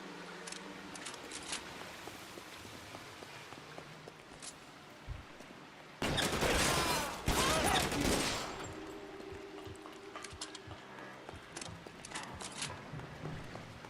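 Gunfire in L.A. Noire erupts as a loud, dense burst of shots lasting about two seconds, with a quieter, rattling game background before and after.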